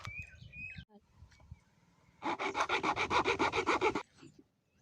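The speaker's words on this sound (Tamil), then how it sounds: "இந்த மர சட்டத்தை எடுத்து நம்ம பாதியாக கட் பண்ணிக்கலாம்" A hand saw cutting a wooden frame in half, heard as a burst of about a dozen quick, even rasping strokes after a quiet stretch of small handling noises, close and fairly loud.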